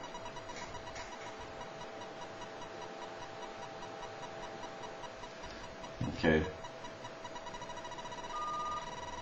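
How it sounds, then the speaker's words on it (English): A steady telephone dial tone comes from a line analyzer during a telephone repair, a faint continuous hum with a short spoken word and a handling clunk partway through. "I'll give you a little dial tone."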